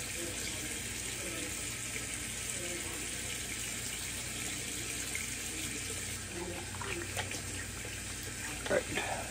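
Tap water runs steadily from a faucet into a sink while shaving lather is rinsed off, a constant close hiss with a few small splashes near the end.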